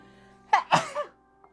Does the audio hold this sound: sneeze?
yes